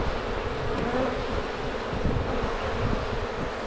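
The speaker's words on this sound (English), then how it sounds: "That is a box full of bees." Dense, steady buzzing of a box packed with honeybees bought over winter, a continuous close hum without pauses.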